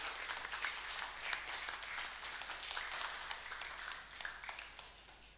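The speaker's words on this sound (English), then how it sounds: "Give a good applause to Daniel." Audience applause at a live crypto meetup event, steady dense clapping from a crowd heard at moderate distance, sustained evenly throughout without talk.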